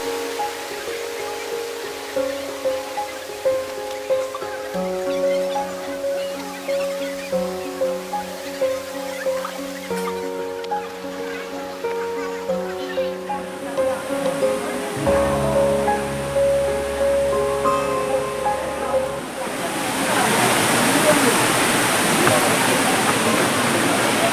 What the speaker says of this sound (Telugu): అవి కూడా ఒక విధమైన రిధంతో సౌండ్ చేస్తుంటూ జలపాతాలు వస్తుంటాయి